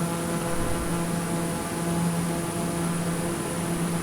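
Steady cabin noise inside a TBM 930 single-engine turboprop climbing out after takeoff, with a constant broadband roar and a droning engine hum throughout, loud and even with no talking.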